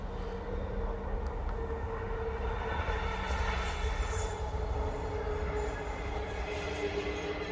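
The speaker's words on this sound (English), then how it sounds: "It's just a locomotive." A train rolls steadily along a railway line in Paisley, Scotland, a loud, continuous rumble with rail hum and faint wheel squeal holding for the whole stretch, no voices over it.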